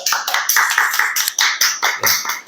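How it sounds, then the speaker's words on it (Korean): A small group claps at the close of a company mentoring talk between senior and junior sales staff, a brief burst of sharp, close, rhythmic claps that stays loud throughout with no talk over it. "박수로 마무리하겠습니다"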